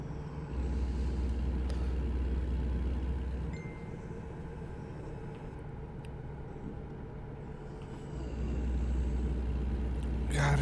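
Truck engine droning in the Truck Simulator video game on a Kansas drive, a steady low rumble that swells, eases off midway, then rises again, under a speaking voice.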